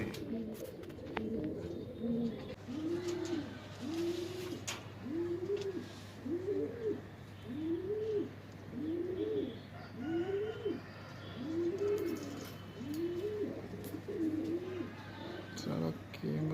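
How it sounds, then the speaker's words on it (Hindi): Madrasi low-flyer pigeons, white-eyed birds, coo repeatedly in a loft, giving a steady rhythmic run of about a dozen close, clear coos over a low constant hum. "बहुत अच्छे परिंदे हैं, मद्रासी कबूतर हैं,"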